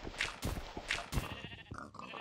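Repeated sheep bleats from a Minecraft sheep, several short wavering calls spread across the clip, moderately loud with game ambience behind them and no talk.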